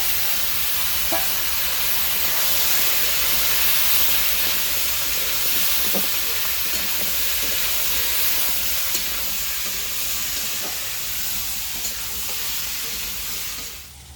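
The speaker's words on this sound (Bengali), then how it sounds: "আলুটা সুন্দর লাল লাল করে ভাজা করছি" Potatoes fry in hot oil after cumin tempering, browning with a loud, continuous sizzle and occasional faint stirring clicks, steady throughout and fading slightly at the end.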